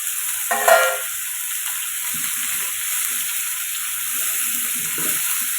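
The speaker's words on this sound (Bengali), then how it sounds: "বেগুন আলু এটা এখন ভেজে নেব আমি দিয়ে দিচ্ছি" Long-cut eggplant and potato pieces go into a hot oiled pan, starting with a brief louder splash and then settling into an even, continuous sizzle with occasional small stirring sounds.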